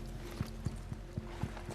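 Horse hooves clip-clopping at a slow walk on firm ground, five evenly spaced soft thuds against a low steady outdoor hum, with no talk over it.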